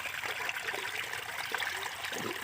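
Water flows from the tap of a drum to mix urea fertilizer on a farm, a steady close trickling stream running alone without pause.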